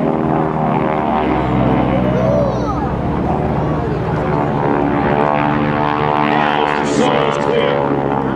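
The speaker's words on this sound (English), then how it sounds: "Close abeam, the solos will pitch up and roll into each other, passing canopy to canopy, just 50 feet apart." GEICO Skytypers propeller airplanes perform airshow maneuvers at a military open house, a loud continuous engine drone with shifting pitch as the solo aircraft pass close, while an announcer talks over it.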